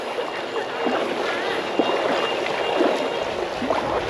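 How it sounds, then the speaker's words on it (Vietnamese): Floodwater pouring into the Bach river in Huế, central Vietnam, beside wooden boats, a steady broad rush of flowing water that runs the whole time, close and moderately loud. "Ui trời, nước này nước chảy ra sông."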